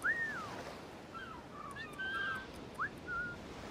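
Whistling in Assassin's Creed IV: Black Flag, a few short rising and falling whistled notes, fairly faint, over a soft sea-and-wind ambience.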